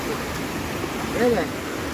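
A steady, broad wash of surf rolls onto the beach at Mandarmani with no break, rising slightly for a moment before settling back to a constant roar.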